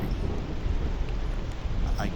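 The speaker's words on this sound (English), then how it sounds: "we're really getting some heavy rain here" Heavy rain in the ARK dinosaur survival game on the Dino Island of Athos map, a dense, continuous roar of downpour filling the scene, loud and unbroken throughout.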